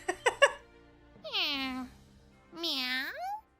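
A cat meows twice in Trails of Cold Steel IV, two drawn-out rising-and-falling cries after a few quick clicks or taps, clear and close against near silence.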